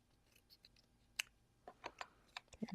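Scissors trim paper for a shamrock candy box, making a few faint, short snips and crisp clicks close by in a quiet room.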